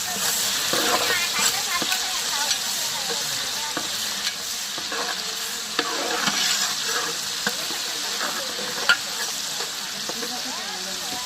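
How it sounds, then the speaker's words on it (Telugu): Ginger-garlic paste fries in a pan for chicken curry while a spoon keeps stirring, giving a steady close sizzle with repeated scraping strokes throughout. "సరిపడ అల్లం ఎల్లిగడ్డ వేసుకోవాలి బాగా కలుపుకోవాలి పచ్చివాసన పోయే వరకు"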